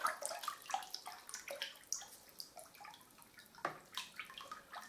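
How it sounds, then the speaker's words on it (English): Water being stirred round in a bucket before mixing wallpaper paste for lining paper, a faint, continuous swishing and sloshing with small splashy drips, close by. "you want to get the water stirring,"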